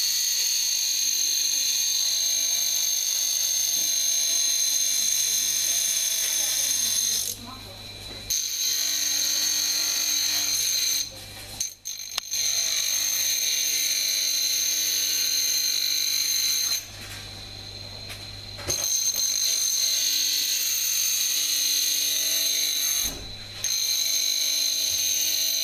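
Dental lab trimmer grinding the edge of an acrylic tray in a steady, loud high-pitched whine that runs almost without a break, with a few short dips where the tray is lifted off the trimming head.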